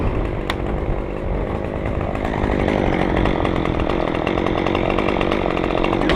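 Chainsaw cutting a felling hinge into a tree, a loud, steady engine roar under load that holds close and continuous throughout, with no talking.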